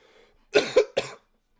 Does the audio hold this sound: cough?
yes